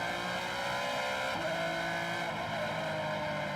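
A Formula 3 race car powers up the hill at the Macau Grand Prix street circuit, a sustained high-revving engine roar with a gear-change drop in pitch, loud and steady without speech.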